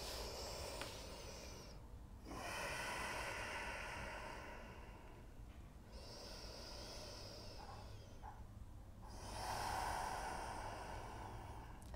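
Deep, slow breathing held through a downward-facing dog pose in an Ashtanga yoga session, several long hissing inhales and exhales in an even rhythm, close and soft, with no talking.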